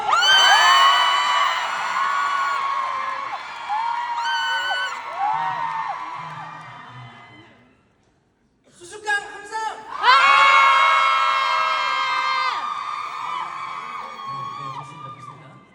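A concert crowd cheers and shouts in loud, high-pitched bursts of whoops and screams, breaking off into a brief near-silent pause before surging back even louder, with a few voices carrying over the noise.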